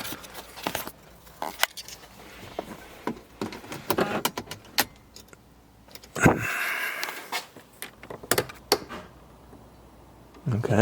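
Power windows on a Mars Red C55 car with a battery-drain problem run in short motor bursts with clicks and thumps, close by and interleaved with a person talking.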